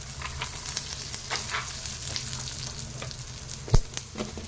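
Sesame seeds and peanuts dry-roasting in a pan over a low flame, in prep for a Telangana tomato chutney: a soft, steady crackle and sizzle with scraping stir strokes, then one sharp knock near the end, no voices.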